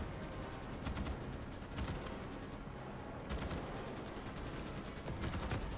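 Bursts of rapid automatic gunfire come from a weapon in Starship Troopers: Extermination on PS5. They are loud, close and sustained, with long volleys broken by brief pauses and no talking over them.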